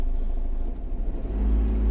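A 1991 Honda Acty kei van pulls away in first gear: a low engine rumble holds briefly, then swells as the small van gets moving.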